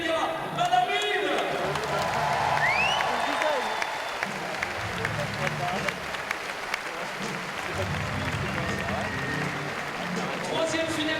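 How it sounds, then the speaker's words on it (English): Audience applause fills a climbing championship venue for a Russian lead finalist, women's lead final at the Paris world championships; steady dense clapping throughout, with a crowd murmur and brief whistle-like tones early on. "Applaudissements s'il vous plaît pour la Russe"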